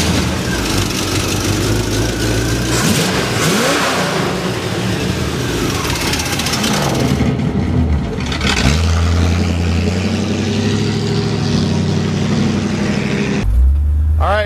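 Engine of a 1957 Chevrolet Bel Air revving as the car pulls out, with a loud, close, rumbling roar that rises and falls through accelerations, then settles into a steadier low drone.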